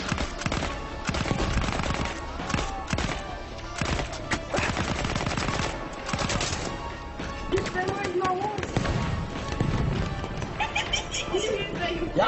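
Horse hooves clopping and a whinny in an online shooter game, mixed with dense gunfire, machine-gun bursts and shouting players talking over the whole stretch.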